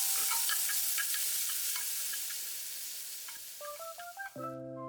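Onion, paprika and tomato stir-frying in a pan give a soft, continuous sizzle with light scraping and ticking of the utensil, fading slightly before a few brief clicks and a tone at the end.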